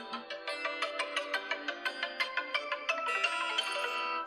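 A phone ringtone plays during a Minecraft stream, a quick bright electronic melody of evenly spaced tones repeating steadily and alone, fairly quiet and without speech.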